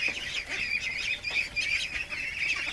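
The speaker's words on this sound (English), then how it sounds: "It's a mess of ducks." Dozens of ducks crowded inside a barn, a constant overlapping chorus of quacks and squawks close by with no pauses, their calls rising and falling over one another.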